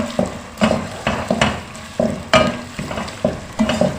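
Onions fry in hot oil for murgh cholay, a close, crackling sizzle broken by repeated scraping strokes of a spoon stirring the pan at a steady, uneven rhythm.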